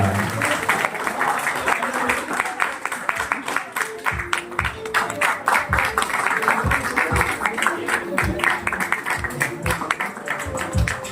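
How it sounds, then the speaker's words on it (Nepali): An audience at a college welcome program claps in a dense, sustained round of applause, loud and close, with scattered voices underneath. "सम्पूर्णले ताली बजाएर सहयोग गरिदिनु होला"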